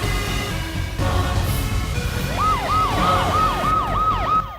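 An ambulance siren wails in a repeating rising-and-falling pattern, loud and close, over a busy background of traffic and scene noise.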